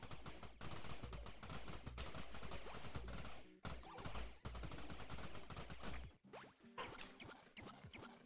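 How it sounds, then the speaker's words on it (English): Bombs blasting rock while mining in Forager, a busy stream of loud, crackling bursts and impacts layered over game sounds, with short dips between volleys. "with these bombs, I'm going to go mining"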